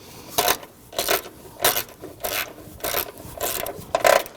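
A Ford Taurus coolant expansion tank's plastic-securing bolts are tightened with a ratchet: about seven evenly spaced rasping clicks and turns, close and moderately loud, with no talking.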